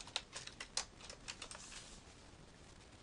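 Someone types a file name on a computer keyboard, a quick run of soft, close key clicks in an uneven rhythm that slows and fades toward the end, with no talking.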